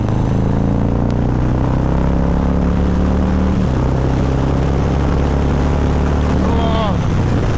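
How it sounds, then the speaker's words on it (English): A 2025 Harley-Davidson Fat Boy with the 117 Custom engine pulls hard onto a highway in sport mode, its deep loud engine note rising through the gears with a steady rumble and a shift midway, and no talking. "We'll go sport mode and do a pull onto this highway here."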